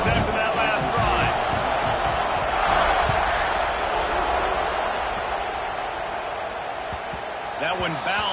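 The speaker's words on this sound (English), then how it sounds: "this crowd is feeling themselves after that last drive" A stadium crowd in the College Football 26 video game roars steadily as a dense, continuous wash of cheering, loud throughout and easing slightly toward the end.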